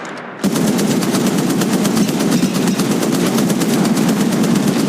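Rapid automatic gunfire in Apex Legends Mobile bursts in after a moment of silence and rattles on nonstop, loud and close, with no speech.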